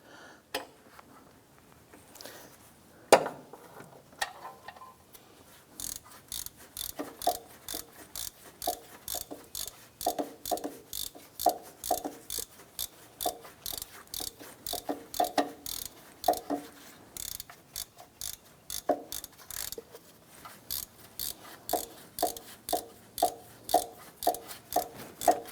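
A hand ratchet snugs down bolts on a 2001-2005 Honda Civic engine during a camshaft seal replacement, giving long runs of rapid, even clicks that repeat close up and alone, with brief pauses between bursts.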